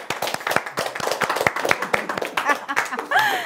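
Clapping in a studio audience at the Slayers TV Show 2018 Christmas edition: distinct, sharp hand claps from a modest group, mixed with light laughter, before a voice takes over at the end.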